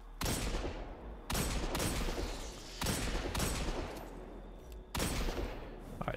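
Hand cannon shots in the Destiny 2 video game, four loud, sharp single blasts spaced about a second apart, each with a long reverberant tail and no talking.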